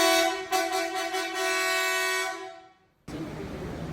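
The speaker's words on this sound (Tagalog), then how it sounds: "Tapos kakabit na rin yung Marco na Extreme Blast na busina." A Marco Extreme Blast horn fitted to an off-road 4x4 sounds one loud, sustained, brassy blast for about three seconds, then cuts off abruptly into steady broadband noise.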